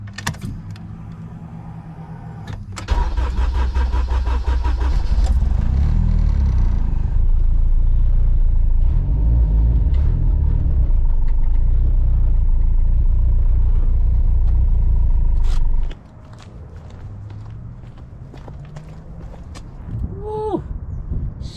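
A car engine catches after a few seconds of quiet and runs with a loud, low rumble for roughly thirteen seconds before shutting off, leaving faint clicks and some brief voice sounds.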